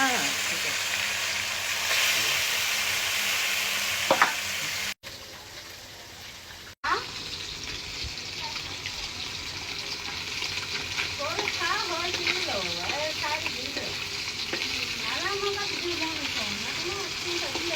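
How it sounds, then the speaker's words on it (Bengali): Jatka fish frying in hot oil, a loud continuous sizzle with stirring noises and a short break in the middle, while people talk over it. "জাটকা মাছ ভাজি হচ্ছে"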